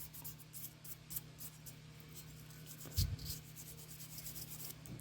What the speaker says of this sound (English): I pretty much block sand it all